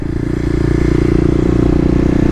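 A 2018 Kawasaki KLX250 dirt bike on an urban off-road lap, its engine holding a steady, close, throbbing drone under light clatter with no talk.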